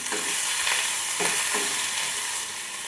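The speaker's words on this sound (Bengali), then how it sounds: "আদাটা আমি ভাজা ভাজা করে নিয়েছি" Ginger paste frying with whole cumin seeds in a hot pan, a steady dense sizzle with faint stirring scrapes, close and continuous, cutting off abruptly at the end.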